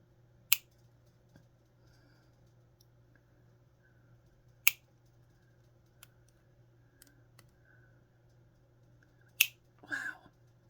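Wire cutters make three sharp, isolated snips through thick plastic pieces, spaced several seconds apart over a low steady hum, ending with a brief rustling crunch.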